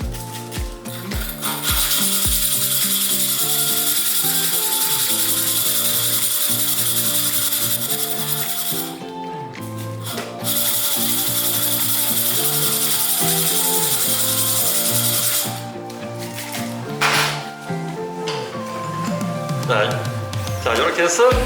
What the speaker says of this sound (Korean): 유리를 자를 때는 물을 먼저 유리에 뿌려주신 다음에 다이아몬드 톱날로 절삭해 주셔야 잘 잘립니다.